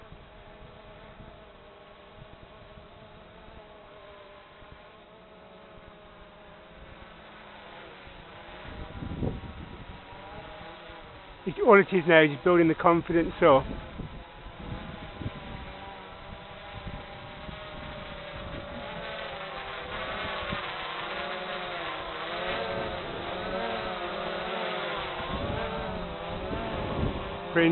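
XK Detect X380 quadcopter drone flying and hovering, a steady buzzing whine that rises and wavers, with a brief louder burst midway and a voice talking over it.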